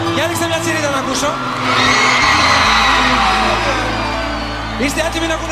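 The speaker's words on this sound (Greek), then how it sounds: "Για ρίξτε μια τσιρίδα να ακούσω." A concert crowd at a Greek folk-pop show screams and cheers when urged, a broad roaring swell of yells and whoops that rises and holds for several seconds.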